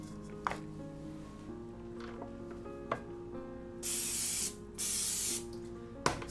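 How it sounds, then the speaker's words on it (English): Cooking spray hisses onto a waffle iron in two sustained bursts of about a second each, close and loud, between clicks and small clatters, over faint background music. "Spray it down"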